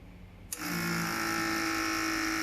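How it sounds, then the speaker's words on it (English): Steady mechanical whir of the ink circulation pump in a Focus Athena Jet Plus DTG printer starts abruptly after a click and keeps running at an even, close hum. "its pump is working, circulation pump is working, and the pump the ink"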